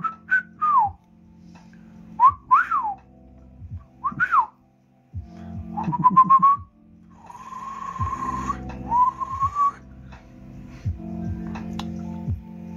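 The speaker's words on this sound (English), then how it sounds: "It is, of course, called to whistle." A person whistles a series of short rising and falling notes, then longer sustained tones, alone in a quiet room with light background knocks and shuffles.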